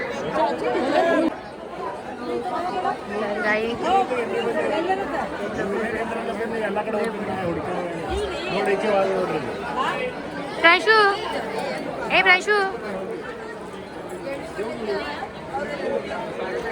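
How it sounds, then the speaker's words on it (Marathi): Dense crowd chatter at the packed Jejuri Khandoba temple in Maharashtra, many overlapping voices murmuring and calling close by, with a nearby speaker talking over the steady babble. "काय गर्दी आहे ना"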